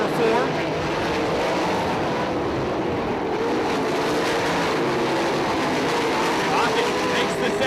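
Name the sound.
410 sprint cars racing on dirt track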